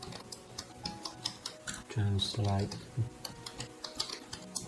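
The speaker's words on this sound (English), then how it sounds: "So I type in gdal translate here" Computer keyboard typing with scattered key clicks while a command-line tool is entered; light, irregular taps close by, with a voice speaking over part of it.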